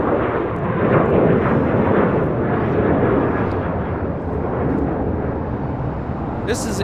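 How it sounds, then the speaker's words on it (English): Aeromexico Boeing 737-800 departing LAX, its engines giving a loud, steady broadband roar that holds through the whole stretch with little change, alone without talk. "This is Aeromexico 783 taking off to Guadalajara on a 737-800."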